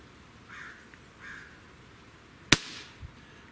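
Single sharp crack of a Benjamin EB22 air rifle shot, close and loud, standing out against quiet room noise with a faint thump just after.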